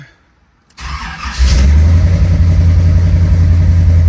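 A car that sat for a week cranks briefly after silence, then catches and starts, settling into a loud, steady, close idle with a deep low rumble.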